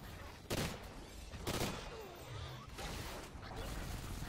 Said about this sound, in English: Couple of shots to get them to move.